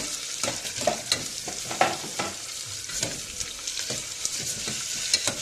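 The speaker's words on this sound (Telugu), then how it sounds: "2 ఆనియన్స్ అండ్ 3 చిల్లీస్ యాడ్ చేసేసాను. సో ఒకసారి బాగా మిక్స్ చేసేసేయండి." Chopped onions and green chillies frying in oil in a pan for mutton curry, with a continuous crackling sizzle and repeated scraping strokes of a spatula stirring them.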